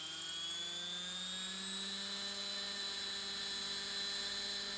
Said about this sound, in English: I'm just watching for any weird vibrations, harmonics that are building maybe in the fuselage that are matching the rotor RPM